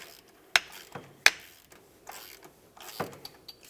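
A hand ratchet loosens the harmonic balancer bolt on a 2000-2005 Buick LeSabre, making a few separate sharp clicks with scraping metallic creaks between them, close up and with no talking.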